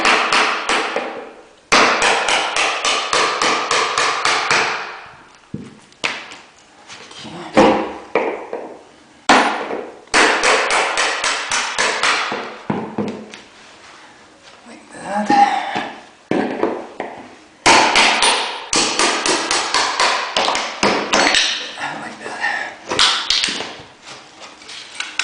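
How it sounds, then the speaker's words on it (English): Repeated hammer blows against floorboards being pried up while replacing carpet, coming in dense rapid bursts of sharp knocks separated by brief pauses, loud and close. "Okay, removing boards."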